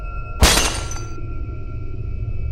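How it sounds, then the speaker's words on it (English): Mirrors shattering in the video game Nightmare: one loud, sudden burst of breaking glass that rings out briefly and then fades, with a steady tonal game background continuing beneath it. "With these freaking mirrors just shattering."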